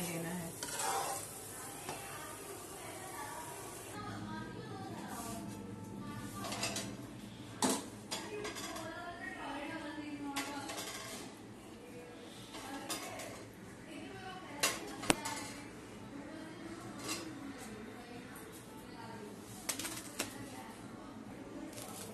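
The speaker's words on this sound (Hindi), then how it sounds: "देखिए अब मैं आटे में चाशनी को डाल के मिक्स कर रही हूँ।" Hot sugar syrup is mixed into rice flour in a pan, giving a steady faint sizzle with soft stirring scrapes and occasional sharp clinks, close but quiet, while someone talks throughout.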